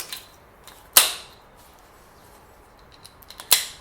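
A Chiappa Rhino 120DS long-barrel revolver fires single action, giving a sharp, sudden crack that decays quickly, followed a few seconds later by a second similar sharp report in an otherwise quiet setting.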